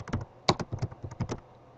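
Quick, light keystrokes on a computer keyboard, about a dozen clicks in an uneven burst, close and clear with no voices.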